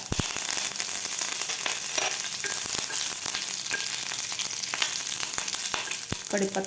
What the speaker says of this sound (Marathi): मोहरी आपली व्यवस्थित फ्राय झालेली आहे यामध्ये घालायचे आपल्याला जिरे त्यानंतर कढीपत्ता